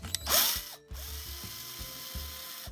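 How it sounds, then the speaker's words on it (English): A small drill whirs in short bursts, stopping and restarting, drilling out a rivet on a Hot Wheels or Matchbox diecast car, with a brief ratcheting rattle and a high whine at the start, close up. "The little dot in the middle of the rivet, and then just slowly drill it out."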